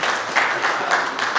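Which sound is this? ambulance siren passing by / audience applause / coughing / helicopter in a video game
audience applause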